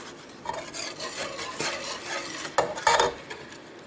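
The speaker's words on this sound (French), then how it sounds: "Je blanchis mes œufs entiers avec le sucre. Je fouette." Whole eggs being whisked with sugar in a bowl, a steady scraping whir broken by louder clatters of the whisk against the bowl's side, close and alone with no talk.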